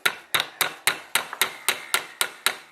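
A hammer taps a metal part during an AR-15 rifle build: about ten sharp, evenly spaced strikes, close and fairly quiet, each ringing briefly before the next, with no talk.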